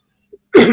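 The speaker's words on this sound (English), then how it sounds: "Sorry for the coughing." A single harsh cough, close and loud, after a brief faint sound and near silence.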